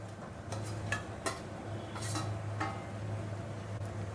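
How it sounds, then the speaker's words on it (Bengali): A spoon scrapes and clinks in a pan as fried potatoes and green jackfruit are stirred together for a curry, several soft knocks over a faint sizzle, quiet and close. "এঁচোড় আর আলুটা ভালো করে এবার একসাথে কষিয়ে নেব।"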